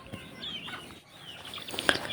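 Chickens being readied for sale at a rural market cluck and squawk in short, scattered bursts at close range, with a louder squawk near the end over faint background murmur.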